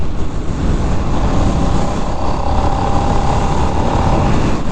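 Steady, loud engine drone of a 2024 Harley-Davidson Nightster motorcycle under acceleration, mixed with strong wind rush from a rider's perspective, continuous for several seconds without speech.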